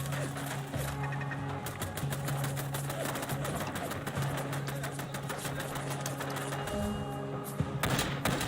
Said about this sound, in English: See our turrets on this side are working over time.